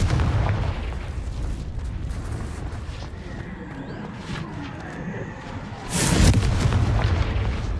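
A Confringo spell explosion in Hogwarts Legacy, with low rumbling booms under a steady battle din and a big, loud blast bursting in near the end.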